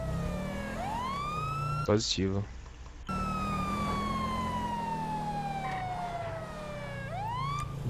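A video game police siren wails, rising and falling continuously and loudly, briefly cut by a short burst of radio chatter before the siren resumes.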